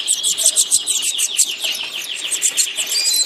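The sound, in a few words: red siskin birds chirping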